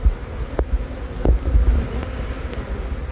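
Honey bees swarm and buzz around a beehive in a steady, close, low drone, with a few brief sharper sounds breaking through.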